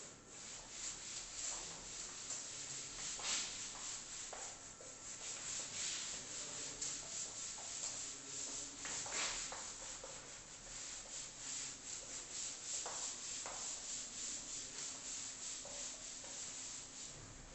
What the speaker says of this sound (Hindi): चलिए इसको रब कर रहा हूं मैं